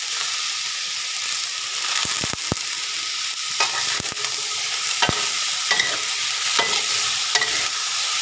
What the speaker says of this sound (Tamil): இப்போ இதே இதை ரொம்ப வதக்கணும்